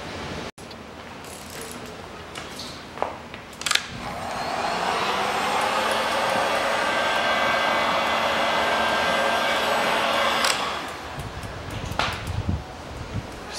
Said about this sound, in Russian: Берем фен.